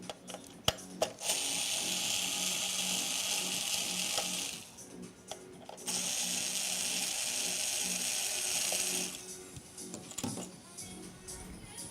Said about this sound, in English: torque screwdriver real quick